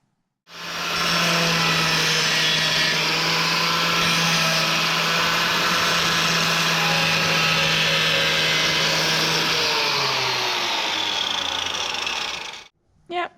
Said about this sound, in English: So I've got the grinder out with a grinding disc on, and I'm just going to grind around to see how far this rock goes